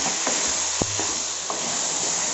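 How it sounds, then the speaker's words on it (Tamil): Onion and tomato sauté in a pan with a constant, fairly loud hiss of frying, broken by a few faint clicks of a spoon against the pan. "வெங்காயம் தக்காளி நல்லா வதங்கிடுச்சு"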